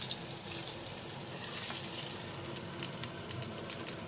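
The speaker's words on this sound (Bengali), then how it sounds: "তো আমার ডিম ভাজা হয়ে গেছে" Eggs fry in a pan at home, a faint, even sizzle and crackle running steadily throughout with no talking.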